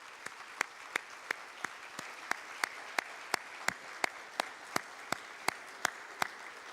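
Conference audience at a summit clapping for the behind-the-scenes organizing team, with sharp, evenly spaced claps in a steady rhythm over a soft, hissy crowd background.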